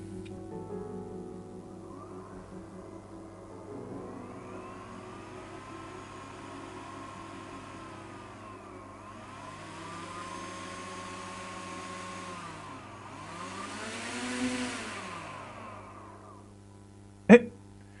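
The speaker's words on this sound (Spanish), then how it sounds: "Los dos motores están funcionando sin problema." Two brushless motors running together on one ESC whine steadily as their pitch rises and falls in repeated sweeps, ending with a sharp click.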